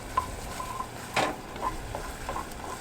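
Okra cooking in a pan on a small gas camping stove fed from a canister, a faint steady sizzle with light scrapes and ticks of stirring.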